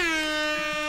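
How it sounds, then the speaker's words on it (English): A single air horn blast rings out, a loud, steady, brassy tone that holds for nearly a second on its own. "We're going to give everybody just a little air horn right here."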